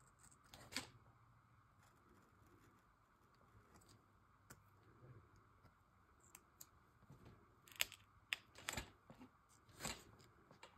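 Scissors snip out paper butterflies for a collage album, a few sharp isolated cuts near 1 s and a cluster between 8 and 10 s over a faint, quiet background.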